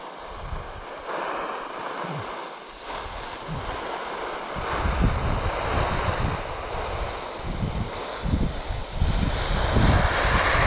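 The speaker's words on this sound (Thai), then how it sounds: "ทั้งเสียงลมเสียงรถน้ำเนาะ" Outdoors on a dry potato plot in Norway, wind buffets the microphone over the steady drone of a water truck's engine, loud and continuous, with gusts swelling toward the end.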